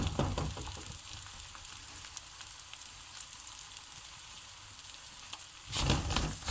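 Msemen flatbread filled with spinach and cheese fries in a hot oiled pan, a steady close crackling sizzle throughout that grows louder and busier near the end, with no voices.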